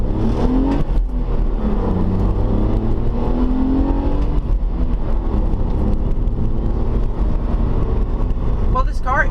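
Engine and road noise from a 2005 BMW Z4 roadster on the move, a steady, moderately loud hum with gentle swells in pitch as it accelerates, heard from the cabin.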